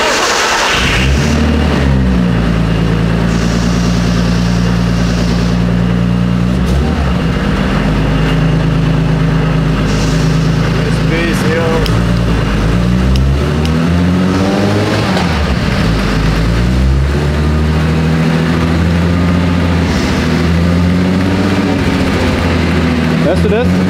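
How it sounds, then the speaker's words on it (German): Turbocharged VW Golf Mk4 4Motion all-wheel-drive engine held near 4000 rpm on a chassis dynamometer, a loud steady drone with wavering pitch and slight rises and dips throughout, with people talking over it. "jetzt fahren wir 4000 Umdrehungen raus. 4000 und gleichen die Drehzahl an mit dem Prüfstand"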